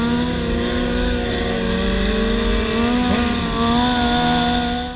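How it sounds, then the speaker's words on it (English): Motorcycle engines drone loudly and close on an empty public highway at night, a sustained revving tone with pitch rising and shifting as the bikes speed along. "The noise coming from their bikes and the dangerous tricks they were doing"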